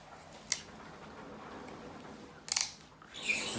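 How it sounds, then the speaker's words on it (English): A raw chicken wing is cut away at the joint while the bird is butchered by hand. A few brief, crisp snipping cracks come up close over a quiet background, with one early, a quick cluster later and a final rougher scrape. "Cut this side and that side. And it should just come right off, just like that."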